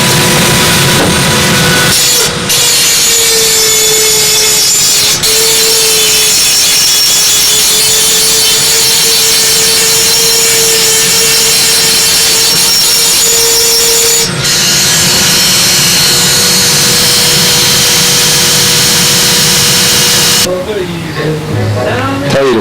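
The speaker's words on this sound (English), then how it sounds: "Yeah, that Dremel tool cuts right in there." Dremel rotary tool cutting into a part during a model airplane build, a loud steady high whine with a continuous tone holding for about eighteen seconds before cutting off.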